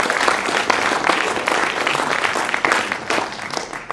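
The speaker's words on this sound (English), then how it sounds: "I think we should give them a clap" An audience at a student racing team launch event claps steadily and densely throughout, a sustained round of applause with no voices standing out.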